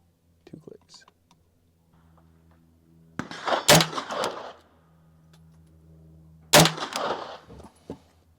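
Two sharp, loud MP5 gunshots ring out at a shooting range, about three seconds apart, each followed by a brief echoing tail, with quiet voices and low background hum between them.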